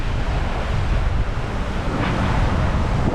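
Strong wind and a rough, well-formed sea rush continuously past a sailing yacht under gennaker in the Caribbean between Guadeloupe and Antigua, a loud, broadband roar of gusts and breaking waves.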